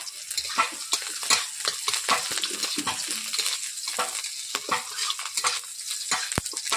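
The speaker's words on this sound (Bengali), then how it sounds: "রসুন লঙ্কা প্রথমে আমি ভেজে নিয়েছি" Garlic and chillies frying in a pan, a busy crackling sizzle punctuated by many sharp scrapes and taps of a utensil stirring, close and moderately loud, with one ringing clink near the end.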